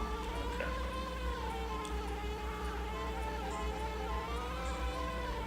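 Buzzing bees in the Banjo-Kazooie video game: a steady, close insect drone holding through the whole stretch, with faint game music beneath and no talking.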